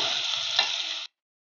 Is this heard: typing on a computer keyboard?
no